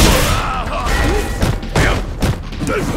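A Hadouken fireball special move in Street Fighter V, with punchy whooshing and booming impacts near and loud, while a character's voice shouts over the effects.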